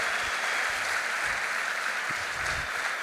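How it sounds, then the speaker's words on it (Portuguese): Steady applause from a large church congregation, a dense even wash of clapping that holds for the whole stretch, with faint low murmurs beneath. "Aplauda bem forte ao Senhor."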